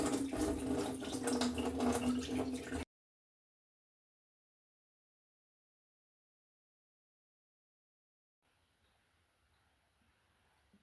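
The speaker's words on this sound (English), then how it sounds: "Now let's pour this water off and see what we got in the bottom." Water pours off from a container during gold recovery work, a loud splashing gush for a few seconds that cuts off abruptly into silence, followed by faint low rustling.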